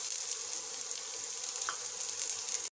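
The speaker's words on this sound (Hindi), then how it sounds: "अच्छे से फ्राई कर लेंगे।" Onion fries in a hot pan with a steady, close sizzle that holds level throughout before stopping abruptly.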